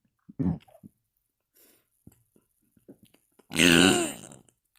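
Closed-mouth burps, a short muffled gulp near the start and then a longer, louder croaking burp held inside the mouth, with small clicks and breaths between.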